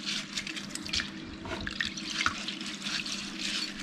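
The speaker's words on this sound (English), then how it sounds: "We need to clean the sticky rice until the water that clean is clear." Tap water runs steadily into a sink while sticky rice is rinsed for a Thai mango sticky rice dessert, a close, continuous splashing flow with no voices.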